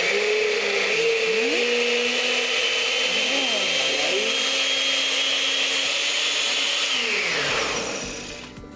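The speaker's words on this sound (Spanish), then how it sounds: "Nos llevamos la licuadora." A kitchen blender whirs continuously as it purées cooked nopales, its loud motor whine shifting pitch a few times as the load changes, then winding down at the end.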